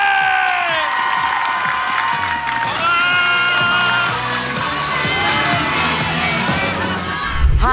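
A crowd cheers and claps loudly and steadily at a televised singing competition live show, with whoops and shouts rising over continuous applause.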